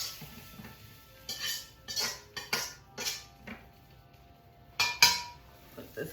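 Utensil scraping and clinking against a pan as stir-fried vegetables are moved in, a handful of sharp metallic taps and scrapes with quiet gaps between, close and fairly clear.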